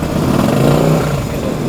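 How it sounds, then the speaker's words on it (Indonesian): A Kaisar Ruby 250 motorcycle idles close by, a steady, even engine rumble with a deep low throb and no talking over it. "suara mesin kayak moge"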